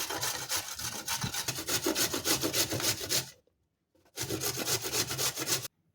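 Carrots being grated on a fine grater for carrot kheer, with a steady rapid rasping rhythm that stops for a short pause and then resumes before ending abruptly.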